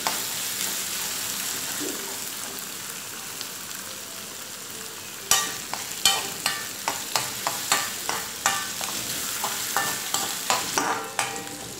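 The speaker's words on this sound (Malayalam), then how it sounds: "ഈ ഇഞ്ചി നന്നായിട്ട് വറുത്തെടുക്കണം" Ginger sizzles steadily while frying in oil in a pan for a sadya-style puli inji. About halfway through, a spoon starts scraping and stirring with regular clinking strokes over the frying.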